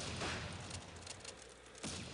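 Gunfire from the wartime video game Close Combat: Kreta crackles in a quick burst of overlapping shots, muffled and fairly faint, with a second volley near the end.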